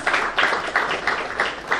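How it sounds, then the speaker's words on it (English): An audience applauds an introduced guest at a formal event in Goa, with loud, dense clapping pulsing in short waves for the whole stretch, no voices over it. "A big round of applause."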